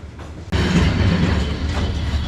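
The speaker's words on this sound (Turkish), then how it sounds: "önümden tren geçiyor" A train rushes past close by, a loud sudden roar of wheels and carriages that stays steady and heavy after kicking in abruptly.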